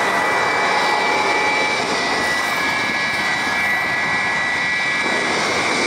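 A jet airliner powers up for takeoff on a wet runway at Jakarta's Soekarno-Hatta airport, its engines a steady, loud roar with a high whine sustained throughout, with no speech.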